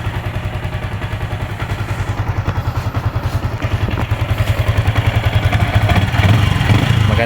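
A Yamaha Sniper 155 motorcycle engine fitted with an R15 piston runs steadily close by, a fast even mechanical beat that grows slightly louder toward the end, with no talk.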